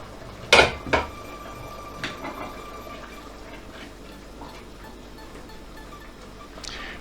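Chickpeas stirred in a water-filled casserole, with two sharp clanks of the utensil against the pot at the start and then softer scrapes and faint sloshing.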